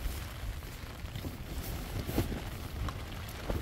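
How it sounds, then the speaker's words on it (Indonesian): Strong gusting wind high on Mount Ciremai in West Java, a continuous low rumble buffeting the microphone with brief flutters and rustles, no voices. "Wah, anginnya."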